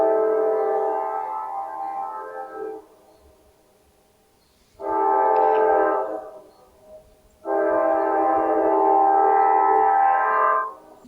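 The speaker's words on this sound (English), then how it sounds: "yeah, train." A train horn sounds in three long, loud blasts with short gaps between them, apart from any talk.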